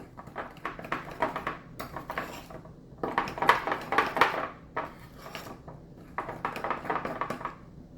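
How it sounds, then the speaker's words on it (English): Mayonnaise and ranch seasoning worked into a paste in a bowl, with repeated soft scraping and clinking of a utensil against the bowl in uneven bursts, close up and fairly quiet. "I'm going to mix that ranch seasoning in with that mayonnaise and make a paste out of it"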